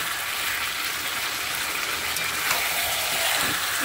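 Chicken sautéing in a pan keeps up a dense, even sizzle with a broad hiss, close and steady throughout, with faint stirring near the end.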